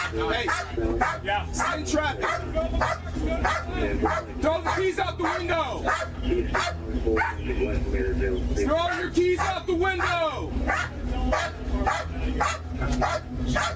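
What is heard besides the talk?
dog barking inside a car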